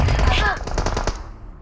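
Rapid burst of automatic gunfire in the PUBG Mobile battle royale game, a short, sharp volley of several shots over about a second, fading quickly.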